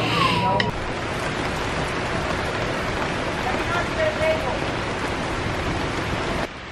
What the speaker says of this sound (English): Sheltering from the rain.